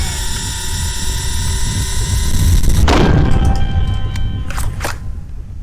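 Gunfire in the Blood Mall PC game rings out as a few sharp bursts over a dense, loud rumbling game soundscape with sustained tonal hums, the shots clustering near the end.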